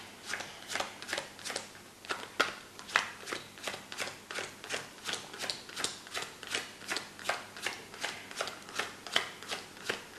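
Playing cards are dealt face down onto a table one after another, giving about two dozen crisp, evenly spaced flicks and slaps up close during a magic trick.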